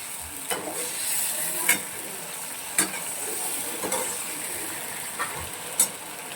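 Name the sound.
stirring onion ginger garlic chili cumin paste frying in oil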